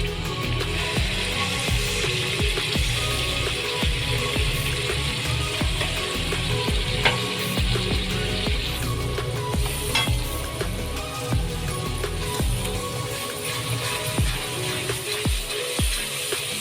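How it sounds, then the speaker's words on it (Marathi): Ground masala paste frying in a pan for Malvani mackerel curry, a steady sizzle with repeated spoon scrapes and stirring throughout, mid-level and close with no talking. "आता आपण आपलं जे वाटण आहे ते ओतूया"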